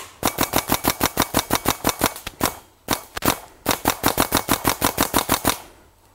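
Dye i4 paintball marker fires a rapid stream of sharp, loud pops in two long bursts with a brief gap between them, each shot crisp and evenly spaced, ending in a short tail of fading noise.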